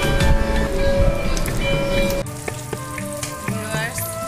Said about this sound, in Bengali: আমাদের মাছ ভাজা হয়ে গিয়েছে,